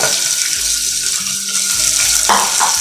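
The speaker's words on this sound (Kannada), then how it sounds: "ಈರುಳ್ಳಿ ಹಾಕಿ ಎಲ್ಲ ಒಂದ್ಸಲ ಚೆನ್ನಾಗಿ ಫ್ರೈ ಮಾಡ್ಕೊಳ್ತೀನಿ" Chopped onions frying in a pan, a steady hiss of sizzling oil with a brief stir or clatter near the end, no talking.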